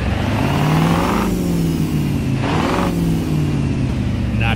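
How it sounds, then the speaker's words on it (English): A simulated 1986 Ford F-350 pickup engine in a video game revs up and down with a steady mechanical whine, rising in two bursts before settling back to a drone. "I'm going to go ahead and fire this thing up so you can listen to it."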